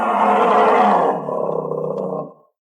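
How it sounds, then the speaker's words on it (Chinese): A black bear roaring outside a tent at night in a forest campsite, one long loud rough roar that fades out after about two seconds, with no one talking. "是黑瞎子，听声音离不远"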